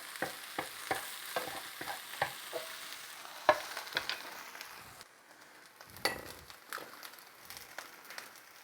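Eggs and vegetables fry and get stirred in a pan outdoors, a steady close sizzle broken by repeated sharp scrapes and clacks of the utensil against the pan, with a quieter stretch partway through.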